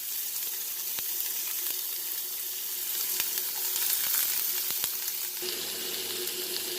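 Onions sizzle in a little hot oil, a soft, steady frying hiss with a few sharp clicks of utensils against the pan, held at moderate loudness throughout.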